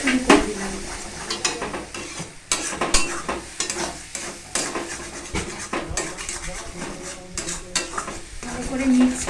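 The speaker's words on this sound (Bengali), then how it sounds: "এটাকে আবার নাড়তে শুরু করে দিলাম।" A spiced mixture with turmeric is stirred in a pan, the utensil scraping and clattering in a busy, continuous rhythm over a steady sizzle, close and fairly loud with no talk.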